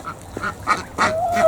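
Farmyard ducks give several short, nasal quacks in quick succession while being fed whole crab apples, near and fairly loud, with a thin whistling tone rising at the end.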